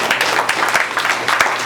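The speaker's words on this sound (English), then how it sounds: "give him a round of applause" Community gathering audience bursts into applause, a dense run of many hands clapping at a steady, fairly loud level throughout.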